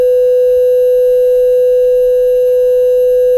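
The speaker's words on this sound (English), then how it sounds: "It's like the most annoying censoring they could have possibly chosen." A loud, continuous, pure censor bleep tone holds steady for several seconds without a break, masking a spoken phone number.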